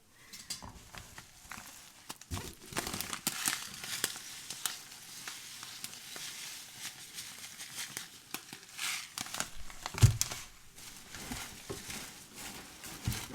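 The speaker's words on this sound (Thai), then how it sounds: "แล้วแม่ดาวก็จะมาขยำกับเกลือนะคะขยำจน มันช้ำนะคะ" Wild vegetables, washed twice, are squeezed and crushed with salt by hand, producing close, wet crinkling and squishing with irregular sizzle-like crackles and soft pats continuing throughout, with no talking.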